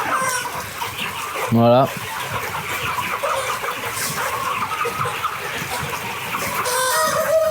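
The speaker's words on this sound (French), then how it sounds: "c'est des coups nus, poulets du sud-ouest" Naked-neck Label Rouge chickens of the south-west clucking and crowing in a coop, with a steady murmur of birds throughout and a louder call near the start, under a man's speech.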